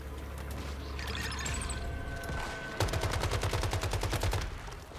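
Automatic AK rifle fire in the video game Once Human, a rapid, loud burst of evenly spaced shots in the second half, preceded by quieter game ambience and mechanical sounds.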